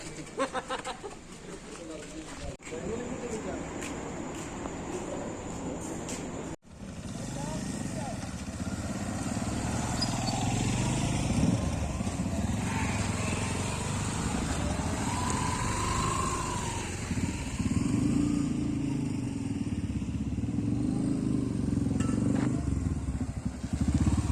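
Motorcycle engines droning on a group ride to Swake Lake, a steady close rumble lasting throughout, with a brief cut partway in and people talking over it.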